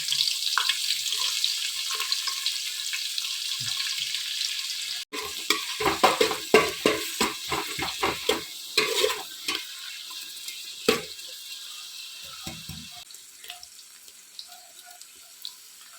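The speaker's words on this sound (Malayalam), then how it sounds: "സവാള അരിഞ്ഞു വെച്ചതും പിന്നെ ക്യാരറ്റും കറിവേപ്പിലയാണ് ചേർത്ത് കൊടുക്കുന്നത് ക്യാരറ്റ് നന്നായിട്ട് മൊരിഞ്ഞു വരുന്നിടം വരെ ഇതെല്ലാം കൂടെ വഴറ്റിയെടുക്കണം" Chopped onion, carrot and curry leaves sauté in a pan, a steady sizzle with a run of close stirring and scraping clatters, the frying settling to a quieter hiss toward the end.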